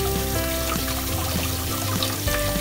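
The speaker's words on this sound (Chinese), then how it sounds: "冲水冲十秒钟" Cooked tapioca pearls are rinsed under a running tap for about ten seconds, a steady close splashing trickle of water with faint clinks, no talking.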